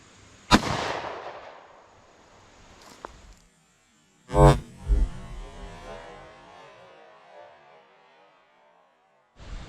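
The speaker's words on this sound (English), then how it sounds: "I'm going to shoot the 9mm first, and then we'll go to the 30 super carry" 9mm pistol shots are fired outdoors into ballistic gel: a sharp loud crack, then a second shot with a quick follow-up report, each trailing off into a long fading echo.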